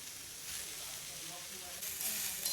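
Onion, garlic and ginger frying in a spoonful of oil for a Kolhapuri chicken curry, giving a steady soft sizzle throughout that grows a little brighter near the end.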